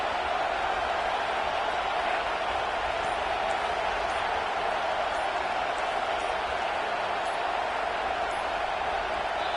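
A loud, dense stadium crowd in a football video game roars continuously without a break, a constant wall of cheering noise filling the whole stretch.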